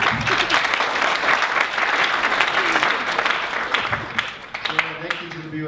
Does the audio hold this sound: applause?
yes